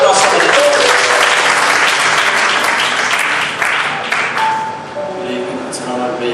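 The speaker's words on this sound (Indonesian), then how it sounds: "Let's give him a clap." A church audience applauds a guest who has come forward during a bilingual Indonesian and English worship gathering, with dense, steady clapping throughout that thins slightly toward the end as a few voices carry beneath it.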